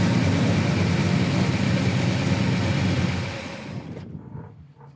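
A big-block 396 engine in a 1969 Chevelle Malibu SS runs with a loud, steady rumble, then drops off sharply near the end, leaving a quieter tail.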